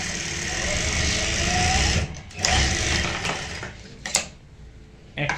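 Sewing machine stitching from the corner of a chair cushion, a steady close whirring hum that breaks off briefly a few times, with a couple of sharp knocks near the end.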